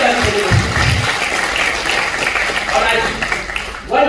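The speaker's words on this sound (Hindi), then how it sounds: "जोरदार ताली बजाइए ये ग्रुप के लिए" An audience at a business seminar claps loudly in sustained applause that fills the room, while a presenter's amplified voice speaks over it.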